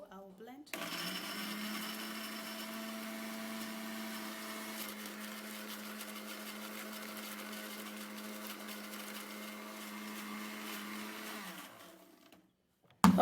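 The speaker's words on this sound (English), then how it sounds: "So I'll blend." A small blender whirs steadily as it purees tomato with water, a loud continuous motor drone running for about eleven seconds before cutting off abruptly.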